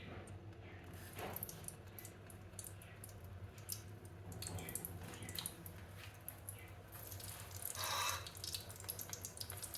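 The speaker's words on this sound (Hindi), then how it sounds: "ये देखें, घी हमारा गर्म हो चुका है, तो ये हम इसमें डाल देंगे।" Potato balls fry in hot ghee with a steady, busy sizzle and crackle that keeps going for the whole stretch. No one speaks.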